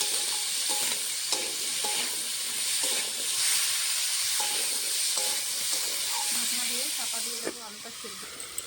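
Small red potatoes fry with salt and turmeric in a pan, giving a steady, dense sizzle and hiss throughout, with clattering stirs and spatula scrapes breaking through near and clear.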